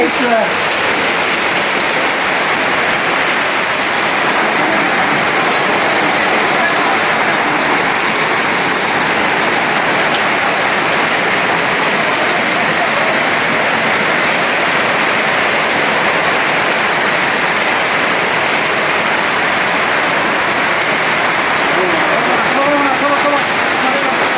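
Heavy rain pours steadily outdoors beside a pond, a loud, dense wash of drops hitting surfaces that runs unbroken from start to finish, with faint voices now and then beneath it.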